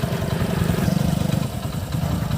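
A restored Hero Honda CD Dawn motorcycle engine idles close up with a rapid, even thumping putter and light mechanical clatter, running alone without voices.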